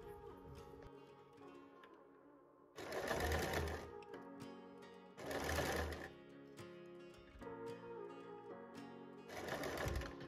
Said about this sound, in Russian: И сейчас будем пришивать зигзагом шнур.